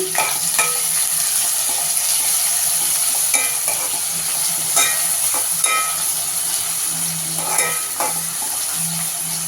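Green chillies, curry leaves and onion frying in hot oil in a pan as a spatula stirs them for chicken curry, a close, steady sizzle broken by repeated scrapes and clinks against the pan.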